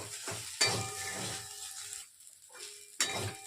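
Spices, ground black pepper and pasta masala, stirred into pasta frying in a pan for masala egg pasta, with a steady sizzle, scraping utensil strokes and two sharp clinks against the pan.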